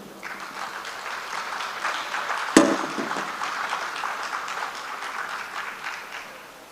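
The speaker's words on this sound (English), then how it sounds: "Here's a round of applause again for Olabanjo and Mimi." An audience at a social impact summit claps in sustained applause, with a sharp louder clap near the middle before the clapping slowly fades.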